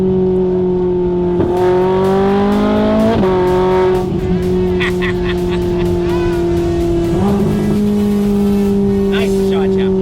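A Ferrari engine revs loud and close while cruising on an American highway, its tone climbing steadily and dropping at each gear shift, with people talking over the drone.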